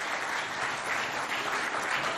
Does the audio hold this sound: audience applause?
yes